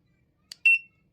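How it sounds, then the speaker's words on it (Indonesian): A tire pressure monitor alarm gives a short electronic chirp followed by one longer high-pitched beep, close and clear against silence. "maka alarmnya akan bunyi"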